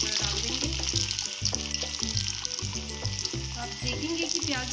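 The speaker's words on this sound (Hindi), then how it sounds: "अब चलिए हम इसे डबल फ्राई करते हैं। फ्लेम को हम मीडियम ही रखेंगे और अपना प्याजी बड़ा डालेंगे।" Onion pakoras (pyazi bada) deep fry a second time in hot oil over a medium flame, giving a continuous bubbling sizzle under prominent melodic background music.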